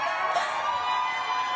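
A live crowd cheers and whoops in a short, steady burst of mixed voices, moderately loud and continuous with no single voice standing out.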